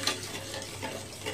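Sugar syrup for balushahi being stirred in a pot on the stove, a brief soft swishing and faint bubbling with a light clink of the spoon.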